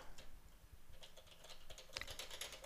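Computer keyboard being typed on, a quiet run of soft clicking keystrokes that grows busier toward the end, close and alone.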